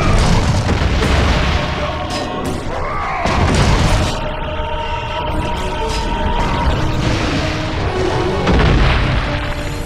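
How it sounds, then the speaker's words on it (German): Heavy booming blasts rumble amid a dense wash of God of War 2 combat noise, with a loud explosion of an enemy swelling near the middle. "Der stirbt nicht einfach nur, der explodiert."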